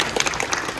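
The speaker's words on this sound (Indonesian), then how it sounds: "kita kasih tepuk tangan" Applause at a fashion show in a hotel in Surabaya, a short burst of dense clapping from a crowd that fills the whole moment at steady loudness.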